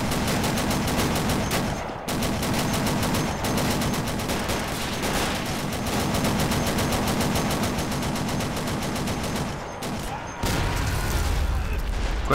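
Sustained loud machine-gun fire with booming artillery shots in a Men of War: Assault Squad online multiplayer battle, continuous rattling bursts dominating throughout.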